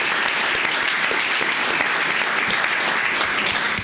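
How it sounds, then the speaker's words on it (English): An audience at a county commissioners court session applauds, a dense, steady clapping that stays loud and even for about four seconds before trailing off. "Let's give Paul a round of applause."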